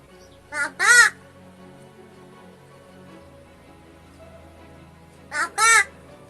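A crow mimics human speech, imitating the words for mother and father in two-syllable, harsh, nasal calls, heard as one close pair near the start and another pair near the end over faint background hum.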